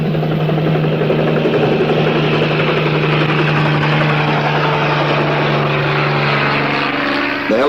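A helicopter roars overhead in a constant, loud, close drone with a steady rotor throb that holds evenly for nearly eight seconds and has no voices over it.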